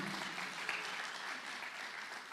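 Congregation in a church clapping together in praise, a dense, even patter of applause heard from a distance and fairly faint, steady for its short span.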